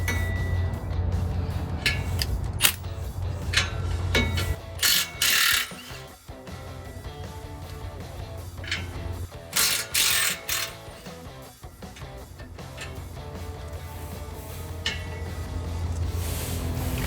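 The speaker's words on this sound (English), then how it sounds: "I'm gonna go ahead and use this 15mm socket" A ratchet with a 15mm socket works loose exhaust piping on a Ford F-250 pickup, sounding as bursts of clicking and metallic clinks with pauses between, close and moderately loud, no voices.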